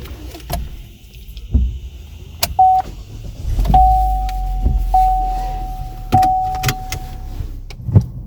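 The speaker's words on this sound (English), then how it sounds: "So we'll show you a little startup and maybe a drive around" A base-model used car sits idling after startup, with power-window whirs, a steady electronic chime tone and a few clicks and thumps of doors or controls close by.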